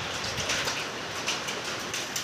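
Heavy rain with storm winds and hail pours down on a police duty camp in Lucknow. The downpour is a dense, steady, loud hiss with no voices.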